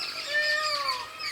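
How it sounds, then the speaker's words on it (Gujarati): A peacock calls in the forest of the Barda hills with a few clear, high, descending whistled notes. It is fairly distant and heard without any talking. "મોરલાની અવાજ આવે છે"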